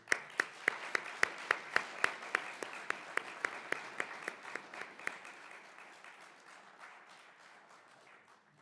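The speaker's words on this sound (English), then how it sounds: "And let's give another round of applause to them." Applause from an audience at the Global Appeal 2024 event, opening with a few loud, distinct claps in a steady rhythm that blur into a fuller round of clapping, then thin out and fade away.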